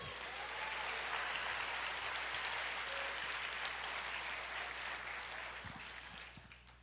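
Church congregation applauding during a service, a sustained, even roar of many hands clapping over a low steady hum, fairly distant in the room and tapering off at the end.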